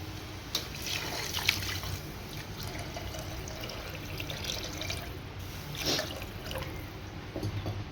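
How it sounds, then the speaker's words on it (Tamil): Water is poured into a pot of soaked green gram for sambar, giving a soft, continuous trickle with faint splashes, quiet and without talk. "தண்ணி ஊற்றி நல்லா மிக்ஸ் பண்ணிக்கோங்க."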